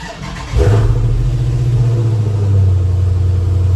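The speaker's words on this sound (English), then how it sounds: "The sound of a V8." A V8 engine with Hemi heads catches and settles into a deep, loud, steady rumbling idle, close by and continuous.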